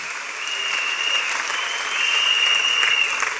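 A church congregation gives a sustained round of applause, a dense, even wash of many hands clapping that swells slightly toward the end in a large indoor space.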